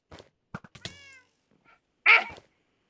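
Cat in the Minecraft video game meowing several times in quick succession, short close meows followed by a louder, more drawn-out cry, with no talk over it.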